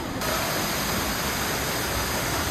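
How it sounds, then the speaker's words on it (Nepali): A small waterfall in snowy Sikkim, swollen with snowmelt, heard as a close, loud and steady broadband rush of falling water with no voices. "अन्त सानो वाटरफल छ"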